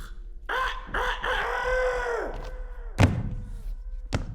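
A voice imitates a rooster's cock-a-doodle-doo in a drawn-out rising and falling crow after a few short calls, followed by a thud and a sharp knock.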